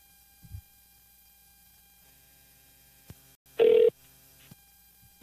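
A telephone call is dialed during a morning radio show: sparse faint clicks, then a steady tone of under a second, another short blip, and a final click.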